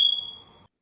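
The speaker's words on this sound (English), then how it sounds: "You just push a button and get the smoke alarm sound." A single short electronic smoke alarm beep rings out, a sharp high tone that fades within a second and leaves silence after.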